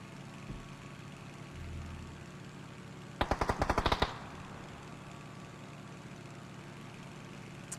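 Automatic gunfire in PUBG, a rapid burst of about a dozen sharp shots lasting under a second over a steady low game background hum.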